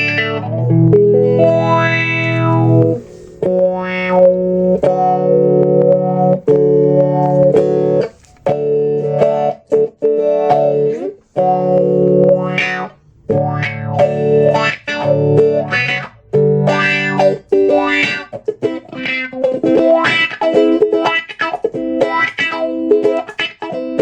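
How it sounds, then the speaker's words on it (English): Electric guitar strums and riffs through a Nux Mod Force pedal with a slow, sweeping, fat phaser-like wash over the tone, loud and continuous with short pauses between phrases. "Slow it down so it sounds almost like a really fat phaser"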